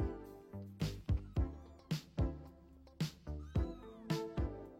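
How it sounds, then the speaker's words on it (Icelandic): A domestic cat meows over and over, close by, in a run of about eight or nine short, sharp cries that come in quick succession. "Kisan er vinur okkar og eitt algengasta heimilisdýr á Íslandi."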